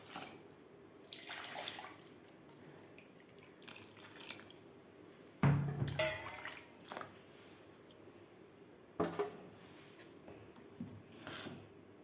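Cold water from the fridge poured into a fruit mix, with splashing and trickling in a few uneven bursts, fairly close and soft, with no voices.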